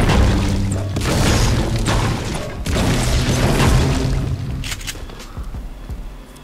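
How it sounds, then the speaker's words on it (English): Impulse grenades going off in Fortnite Battle Royale, a run of loud, heavy booms and blasts packed together over several seconds, fading toward the end with scattered smaller knocks. "I think I gotta drop the impulse grenades right now."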